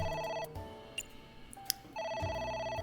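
Phone ringing in AI: The Somnium Files, an electronic ringtone with two tonal bursts separated by a short pause with faint game sounds, clear and close.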